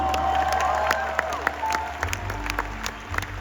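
Audience applause at an organizational success talk, a moderate crowd clapping with sharp scattered hand claps and some cheering, over a low room hum, with faint background voices.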